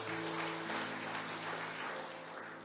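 Congregation applauding inside a church during a sermon: dense, steady clapping at full loudness throughout, with a sustained organ or keyboard chord held underneath.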